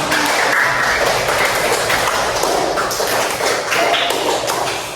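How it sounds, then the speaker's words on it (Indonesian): A classroom of students claps for their classmates after a local-wisdom presentation, a dense, continuous patter of many hands filling the room at steady loudness for the full stretch. "Berikan tepuk tangan buat teman-teman kita."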